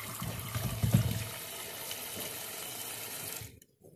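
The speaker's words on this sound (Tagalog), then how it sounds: "Lagyan natin ng tubig." Tap water runs steadily into a cooking pot for boiling banana peels, a close, continuous gush that stops abruptly near the end.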